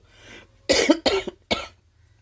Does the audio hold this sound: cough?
yes